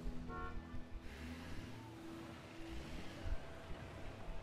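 Dense city traffic in the SimCity video game, a steady low engine rumble with faint car horns and a soft whooshing wash, moderately quiet and continuous with no talking.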